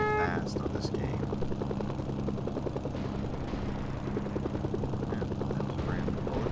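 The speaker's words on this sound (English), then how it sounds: "Pretty thankful that the helicopters actually fly fast on this game." In the video game Mercenaries, a helicopter flies with a steady, fast rotor chop that holds loud and constant across the whole stretch, with faint game sounds in the background.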